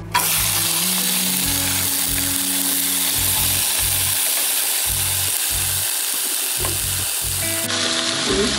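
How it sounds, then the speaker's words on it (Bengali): Bitter gourd pieces hit hot oil in a pan and fry with a loud, steady sizzle throughout, broken by low scraping and stirring strokes, with a sharp change in the hiss near the end. "এখন আমি করলাটা সম্পূর্ণ ঢেলে দিব"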